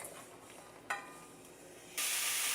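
Food sizzles in vegetable oil in a skillet, a soft close hiss that swells into a loud, bright rush of frying near the end, with no one speaking.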